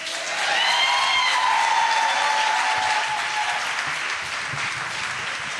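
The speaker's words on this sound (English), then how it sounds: "Clap your hands." An audience claps at a live spoken-word and music event in Chicago, a dense, loud wash of applause that holds steady and then thins slightly toward the end; a few faint whistles rise near the start.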